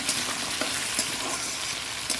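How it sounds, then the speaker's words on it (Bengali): Onion, potato, green chilli and taro fry in a pan with a continuous loud sizzle and hiss, broken by a few short scrapes of stirring. "আলু কাঁচা লঙ্কা আর গাটি কটিটা দিয়ে দিচ্ছি এটা বেশ ভাজা হওয়ার পরে"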